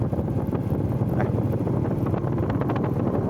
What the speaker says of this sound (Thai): เอาแค่ลมอย่างนี้ก็ได้เนี่ยพูดถึงลมมันก็มากันเลยนะ